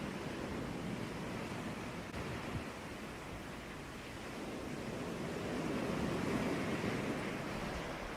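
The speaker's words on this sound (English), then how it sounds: "waves crashing" Soft, steady ocean surf washing onto a beach, a broad low rush that swells gently and then eases, faint and continuous with no voices over it.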